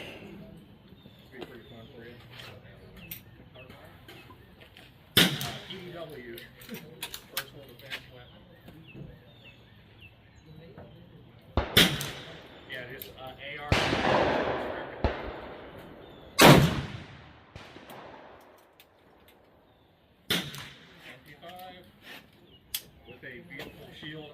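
A .30-30 lever rifle firing 130 grain Barnes TTSX loads at an outdoor range, several loud sharp reports spaced seconds apart with talking between shots and birds faintly in the background.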